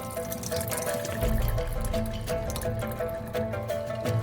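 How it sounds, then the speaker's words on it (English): Water drained off cooked black beans, a continuous close splash and trickle of liquid pouring out, with faint clinks and no voices. "Drain the remaining water from the black beans."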